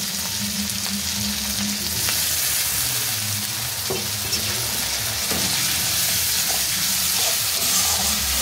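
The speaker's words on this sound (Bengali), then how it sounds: "এবার মশলাটা সুন্দর করে কষিয়ে দেবো, অল্প একটু জল দিয়ে দেবো।" Masala paste of chilli powder and spices sizzles and fries steadily in oil in a pan while cooking a stuffed pointed gourd curry, with a constant hiss and occasional stirring scrapes throughout, no talking.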